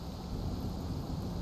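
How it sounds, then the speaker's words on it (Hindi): Rain and thunder in the video game Lies of P form a steady, dense wash of noise with a low rumble underneath, constant and fairly loud throughout, with no voices. "ओके यहाँ पे बारिश कैसे होने लग गई अचानक, खतरनाक सी।"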